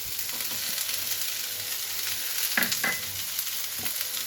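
Raw shrimp fry lightly in a hot pan for a mashed shrimp dish, giving a loud continuous sizzle with a few clear scraping stirs of the spatula and no talking.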